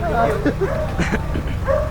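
A dog yips and whines in short bursts close by, mixed with people talking at the same time.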